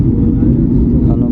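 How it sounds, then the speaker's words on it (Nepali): Steady low engine drone of an airplane descending to land over the Kathmandu valley, heard from inside the cabin as a constant loud rumble. "अनुमति पाउन साथ उसले चाहिँ अब प्लेन चाहिँ बिस्तारै तल झार्दैछ।"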